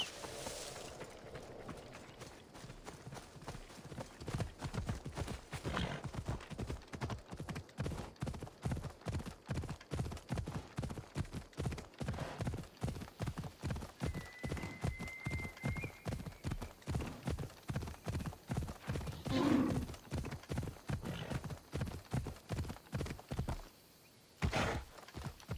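Phobos the horse gallops in Assassin's Creed Odyssey, a steady, fast run of close, loud hoof clip-clops through the whole stretch, with a brief whinny near the end and no talk.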